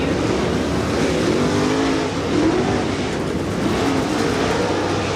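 A modified race car roars steadily down the back stretch of County Line Raceway, a loud continuous engine drone with rising and falling pitch sweeps as it passes, heard alone without voices.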